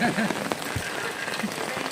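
Rain falling during flooding in the Ghed area of Gujarat, a steady wash of patter on surfaces close by, continuous across the whole moment with a few louder drops standing out.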